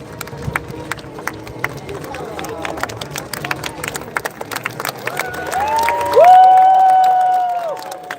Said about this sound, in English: please do give them a massive round of applause